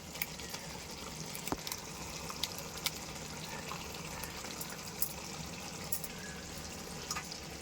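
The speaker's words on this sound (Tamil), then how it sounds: "தண்ணி கொஞ்சம் ஊற்றிக்கலாம்." Water trickles and pours quietly into a pot of chicken gravy, with soft bubbling and small splashes and scattered clicks, faint and steady with no voices.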